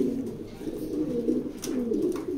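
Overlapping low coos from a group of young racing pigeons roll on continuously, close and steady, with no talking over them.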